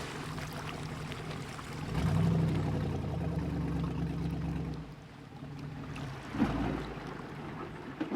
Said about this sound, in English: There's the tug, Charlie.